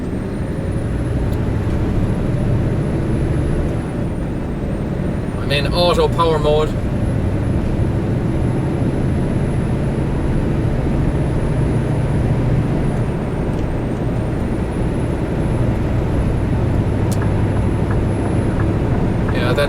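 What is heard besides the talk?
2014 Scania R 520 V8 truck engine climbing a hill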